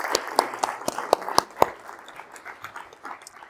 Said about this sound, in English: So I want just a round of applause to the Foundry.